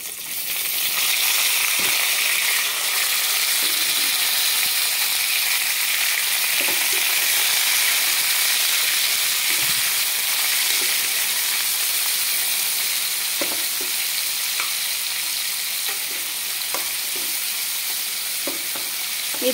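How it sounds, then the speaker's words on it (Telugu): Onion, tomato, green chilli and carrot frying in a pan give off a steady, dense sizzle with small crackles and pops scattered throughout, close and continuous with no talk. "ఇప్పుడు మనం ముందుగా కట్ చేసి పెట్టుకున్న ఉల్లిపాయ, టమాటా, పచ్చిమిర్చి, క్యారెట్ వేసుకుందాము."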